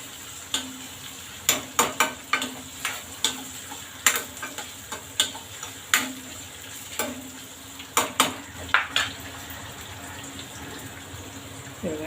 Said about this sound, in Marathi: आता याच्यातच आपण भाज्या परतून घेऊया.